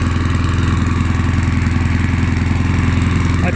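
A Mountfield M4 lawn mower with a 1993 engine runs close by, a loud, steady rapid chugging of the small motor with an even pulsing rhythm and no voices.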